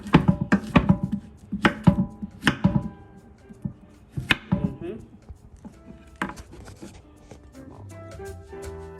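Bananas chopped with a knife on a board, a run of sharp, close thunks in quick bursts, pausing and resuming, with a voice talking between the cuts.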